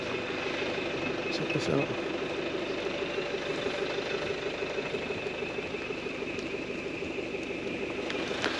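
A car engine drones steadily on a highway road trip from Brisbane to Victoria, a constant mid-pitched hum with road noise throughout, while a voice speaks briefly over it.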